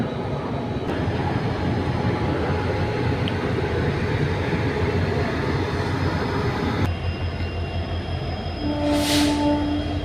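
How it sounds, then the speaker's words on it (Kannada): A train pulls out of platform two at Yeshwanthpur Junction with a steady, loud rolling rumble of wheels and carriages throughout, and thin wheel squeals ring out near the end. "ಟ್ರೈನ್ ಬಿಡ್ತಾ ಇದೆ ಯಶವಂತಪುರ ಜಂಕ್ಷನ್ ಪ್ಲ್ಯಾಟ್ಫಾರ್ಮ್ ಎರಡರಲ್ಲಿ ಮೂವ್ ಆಗ್ತಾ ಇದೆ"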